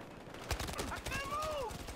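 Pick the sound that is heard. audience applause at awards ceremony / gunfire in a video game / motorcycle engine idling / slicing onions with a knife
gunfire in a video game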